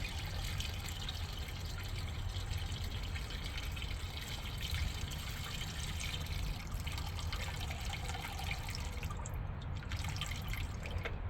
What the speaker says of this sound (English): Then I'm gonna try to pour this gas back in there.